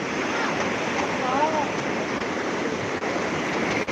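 Waves washing against a rocky beach, a continuous broad roar of surf heard close with steady intensity and some wind rumble throughout, no clear speech.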